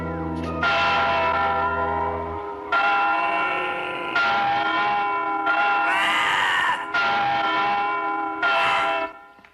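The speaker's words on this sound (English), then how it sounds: "I wonder why the cathedral bell would be ringing at such an odd hour" The great bell of Notre Dame cathedral tolling in a cartoon: six loud, resonant strokes in an even rhythm, each ringing out with a rich metallic hum that decays before the next strike, with a low rumble under the first.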